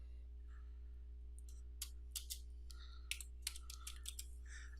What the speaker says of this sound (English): I can go up to the search bar and start typing computer